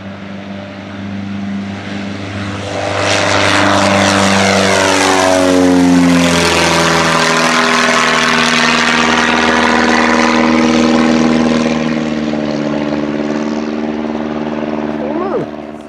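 Large radio-controlled model airplane with a propeller engine, loud steady drone that swells as it passes close by, the pitch sweeping downward, running continuously throughout; people talk faintly underneath.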